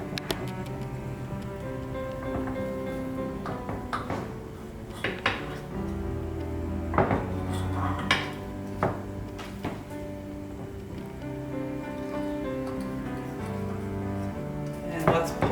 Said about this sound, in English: we're gonna get a knife here and we're gonna slice them into small bars